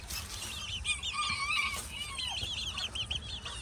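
Chickens and a blue quail-cross pullet calling in a backyard pen, a steady mix of high chirps and clucks from several birds at moderate distance, with no talking.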